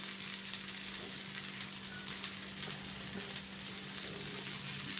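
Sliced ivy gourd frying with grated coconut in a pan gives a constant close, even sizzle with soft stirring underneath, quiet overall and without any talk.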